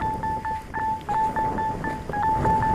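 Rapid string of beeping tones from a mobile phone right after airplane mode is switched off, short pitched chirps tumbling one after another over soft background noise.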